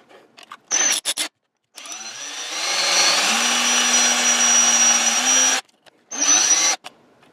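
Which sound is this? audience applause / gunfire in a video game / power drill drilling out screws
power drill drilling out screws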